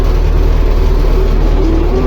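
An MTZ 80 farm tractor's diesel engine runs steadily up close, a dense low rumble with an even throbbing pulse and no speech over it.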